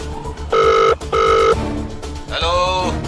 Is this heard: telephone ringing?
yes